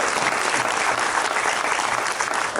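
Steady, continuous applause from a crowd, many hands clapping at once with an even, sustained wash of sound.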